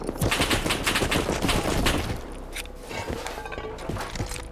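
Rapid bursts of rifle gunfire crack in a video game firefight, dense and loud at first and then thinning to scattered shots and clatter.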